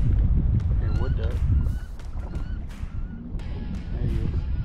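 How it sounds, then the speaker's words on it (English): A wood duck calls in short, high squeals across a windy lake, heard over heavy low wind rumble near a boat. "And wood duck."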